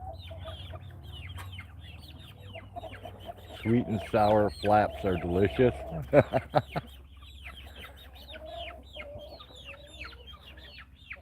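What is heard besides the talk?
rooster crowing and chickens clucking on a farm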